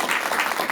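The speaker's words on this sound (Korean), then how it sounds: "여러분 박수 부탁드릴게요." An audience applauds steadily at a Buddhist dharma talk, a dense, even wash of clapping filling the brief moment with no voices over it.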